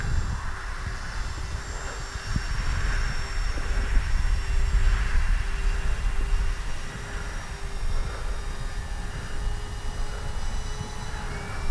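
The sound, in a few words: radio-controlled model airplane flying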